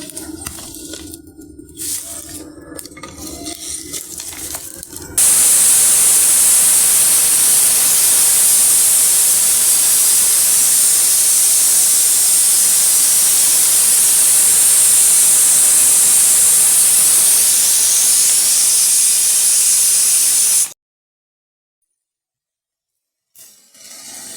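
Pressure cooker boiling chickpeas, releasing a loud, steady, hard hiss of steam for about fifteen seconds after some quieter kitchen noise, then stopping abruptly into silence.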